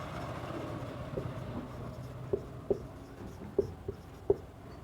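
Pen writing on paper while working a Class 10 mathematics variation problem: soft continuous scratching with a few faint taps, alone at low level.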